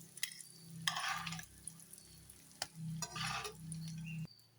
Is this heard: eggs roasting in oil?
yes